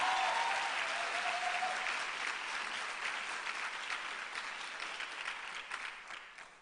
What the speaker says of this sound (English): Can we have another round of applause for her, please?